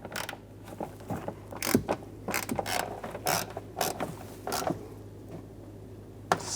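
Ratchet tightening the nuts that hold a tail light assembly on a 2009-2013 BMW 328i xDrive, heard as close, irregular bursts of rapid mechanical clicking with short pauses between strokes.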